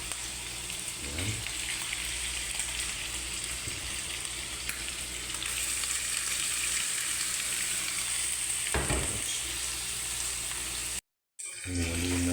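Ground chicken sizzles loudly in a pan with onions for adobong sitaw, a dense steady frying hiss broken by scraping stirs, then a brief cut to silence near the end.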